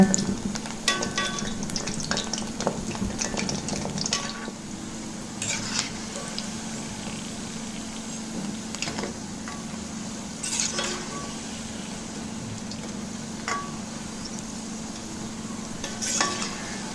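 Pattanam pakoda deep fries slowly in oil over a low flame, a continuous soft bubbling sizzle punctuated by occasional clinks and scrapes of a ladle against the pan.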